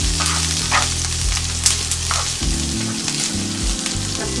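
Shrimp fry in a pan with a loud, constant sizzle and crackle, overlaid by occasional stirring clatter.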